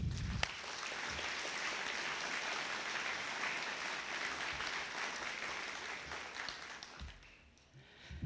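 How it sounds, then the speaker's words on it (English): Audience applauding at a police academy graduation ceremony, a sustained roar of clapping that swells, holds and fades toward the end, with a couple of thumps. "let's give them a round of applause too."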